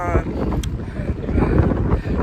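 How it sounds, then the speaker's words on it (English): Steady wind buffets the microphone on De Palm Island, Aruba, a loud continuous low rumble and roar filling the whole clip. "It's so windy here"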